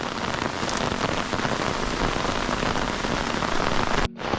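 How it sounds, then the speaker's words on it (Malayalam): Heavy rain pours on a hilltop at sunset, a loud, steady close hiss of drops on surfaces with no voices, cut off abruptly near the end. "കൂടെ ഈ മഴയും ഇത് രസാ നോക്കിയേ"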